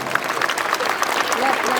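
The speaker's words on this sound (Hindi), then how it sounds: "अच्छी लग रही हो तो जोरदार तालियां बजा दीजिए," An audience at a religious gathering claps loudly and steadily on request, a dense patter of many hands held at a constant level throughout.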